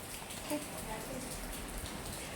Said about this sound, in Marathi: आज सकाळपासून खूप पाऊस पडत आहे रत्नागिरीमध्ये